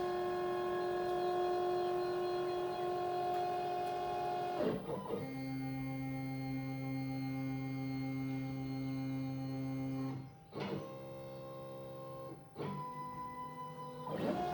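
A CNC router moves its bit to find the Z zero, giving a steady tonal stepper-motor whine that changes pitch between moves, with brief pauses and shifts between separate motions.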